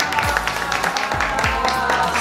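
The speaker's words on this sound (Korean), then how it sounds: "박수 한번 주세요!" A group claps and applauds over music, steady dense clapping at close range with a couple of louder swells throughout.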